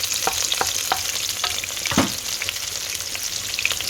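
Fenugreek seeds fry in hot oil for a crab curry, a steady close sizzle with scattered sharp crackles and pops from stirring, heard alone without speech.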